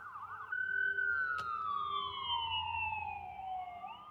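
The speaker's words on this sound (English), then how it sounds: "Sorry about the sirens, I'm gonna let them pass." A siren wails loudly through a slow falling sweep, with rapid yelp bursts at the start and end, steady over a low street rumble.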